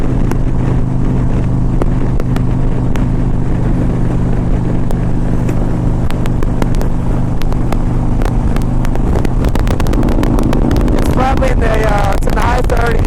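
A 2001 Harley-Davidson Ultra Classic motorcycle cruises on the road on a cold day, its steady engine drone loud and close under heavy wind rush, with a voice faintly present.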